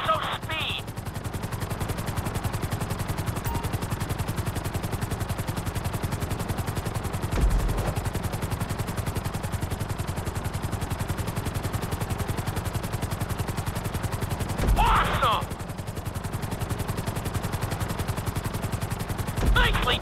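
Helicopter in GTA 5 flying a timed flight-school course, a steady loud rotor chop and engine drone running continuously throughout, with brief louder bursts layered on top.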